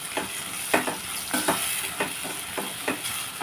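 Mango curry frying in a pan, a quiet sizzle broken by regular scraping strokes of stirring, roughly two every second, with no talking.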